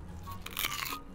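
Someone takes a crunchy bite of a chicken salami empanada in Valparaíso, Chile: a short, crisp crackle of pastry up close, building to a loud burst and fading within a second, with no talking.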